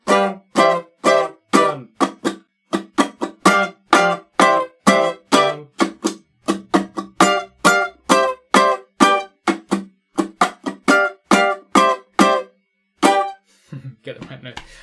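The first riff of a song, played on guitar as a run of short, punchy strummed chords in a steady, even rhythm, close and clear.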